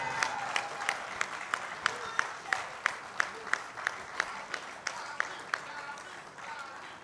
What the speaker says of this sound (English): The applause you hear are well deserved